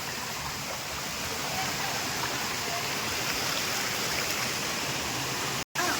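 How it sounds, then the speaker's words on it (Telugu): Boddugudem waterfall pours down from the hills in a steady, loud rush of falling water that fills the whole stretch, broken only by a momentary dropout near the end. "ఫైనల్లీ వాటర్ ఫాల్స్ దగ్గరికి మనం వచ్చేసాం"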